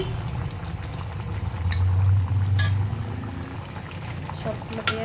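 A fish curry with vegetables and potatoes simmers in a pot, giving a steady, close bubbling that swells briefly in the middle while a person talks over it.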